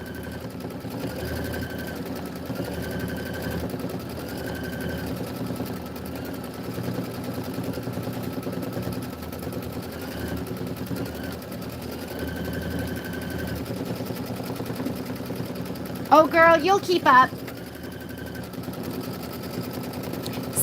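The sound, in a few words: embroidery machine stitching quilting detail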